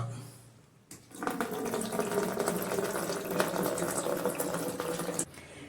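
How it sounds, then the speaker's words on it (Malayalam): Water gushes into a toilet flush tank through a newly fitted PVC inlet, starting abruptly and running as a steady, moderately loud hiss and splash for about four seconds before cutting off. "ഓക്കെ, ഇനി നമുക്ക് വെള്ളം തുറന്ന് നോക്കാം"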